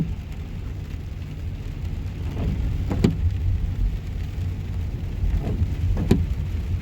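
A car drives through a small downtown along the National Road in Maryland on a rainy day, a steady low engine and wet road hiss with a couple of brief louder swishes, no talking.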